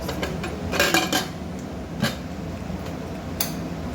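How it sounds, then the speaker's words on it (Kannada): A few sharp metallic clinks as a pressure cooker lid is set and closed, with quiet kitchen background between the knocks. "ಕುಕ್ಕರ್ ಮುಚ್ಚಳ ಮುಚ್ಚಿ"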